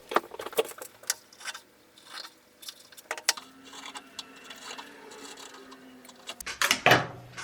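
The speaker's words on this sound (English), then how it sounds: "just going to use my pinking shears" Pinking shears snip through fabric along a garment seam allowance, giving close, crisp clicks and crunchy cuts in an irregular rhythm, with a louder flurry of snips near the end.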